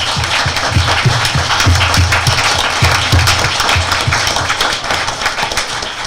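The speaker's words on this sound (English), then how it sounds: "Let's give them a real nice round of applause." An audience at a 2018 candidate forum applauds the candidates, giving a loud, steady wash of many hands clapping close by.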